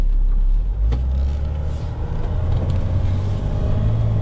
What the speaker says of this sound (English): the sound that we're hearing, because it more sounds like a boost leak than a rubbing sound